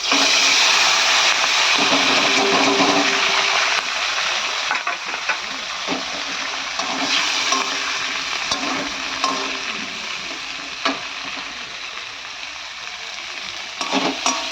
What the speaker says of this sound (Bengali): এখানে পেঁয়াজ কলিটা ভাজা হচ্ছে